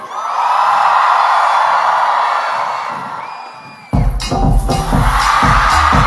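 A concert crowd at a show in LA cheers, whoops and screams loudly, swelling and dipping, then a sudden burst of louder music and shouting joins the roar.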